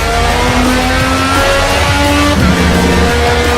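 In the racing game Project Cars, a race car engine revs and accelerates hard, its pitch climbing in repeated rising sweeps through the gears, loud and continuous with no talking.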